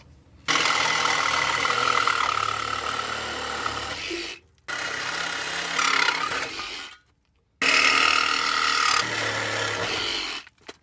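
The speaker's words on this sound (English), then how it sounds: "We need the Sawzall instead." A Sawzall reciprocating saw rasps loudly through a rotted exhaust pipe under a Blazer in three long bursts, each several seconds, separated by brief pauses.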